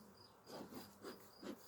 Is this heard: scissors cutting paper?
no